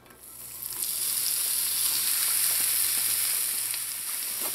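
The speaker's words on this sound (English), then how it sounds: "When the oil is hot, we're going to go in with some garlic, hot peppers, tomatoes," Garlic, hot and sweet peppers, tomatoes and onions frying in hot coconut oil, a steady loud hiss that swells after a soft start and holds without pause, with no voices.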